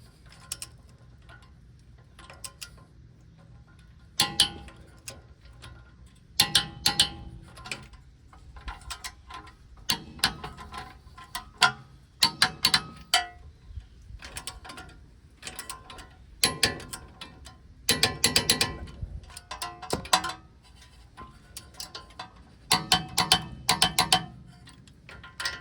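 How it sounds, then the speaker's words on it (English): A torque wrench tightens 14mm ball joint bolts on a 1996–2002 third-generation Toyota 4Runner, with irregular bursts of sharp ratcheting clicks and metallic taps separated by quiet pauses. "we're going to torque these 14mm bolts down to 59 foot-pounds of torque"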